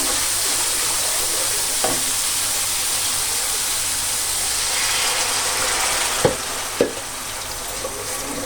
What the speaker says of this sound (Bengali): আর ওদিকে তো আমার মাছ ভাজাটা হচ্ছে।